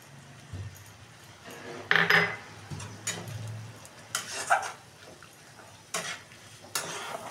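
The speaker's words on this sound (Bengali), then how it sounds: "এবার একটু কষিয়ে নেব, ভালো করে কষাবো" Spiced masala of chopped tomato, whole chilli, turmeric, chilli powder, cumin and coriander powder being stirred and fried in a pan for a taro, potato and shrimp curry: repeated scraping spoon strokes over a low, steady sizzle, close by.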